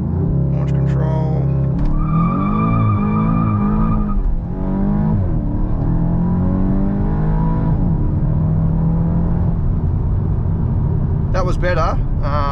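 A 2023 Volkswagen Golf GTI makes a launch-control start on fresh tarmac. The engine revs rise loudly and close through the gears with a shift break midway, and brief tire chirps sound at the start and end.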